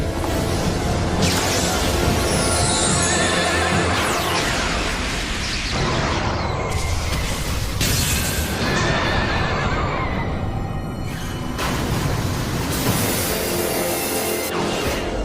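A horse neighs loudly as a sound effect in a dubbed Beyblade anime battle, the whinnies rising over crashes, bursts and dramatic battle noise.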